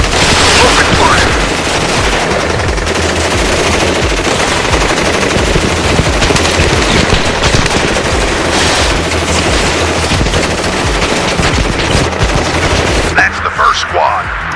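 Machine gun fire in the video game WARNO, loud continuous bursts of automatic gunfire with scattered booms and battle noise throughout, cutting off near the end.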